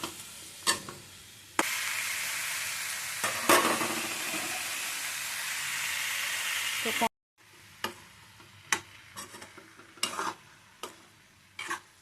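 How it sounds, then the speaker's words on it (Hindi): Cumin seeds sizzle and crackle loudly in a hot pan as a tempering, with a few clinks of stirring, then quieter intermittent sizzling and tapping. "जीरा का तड़का लगा दिया है"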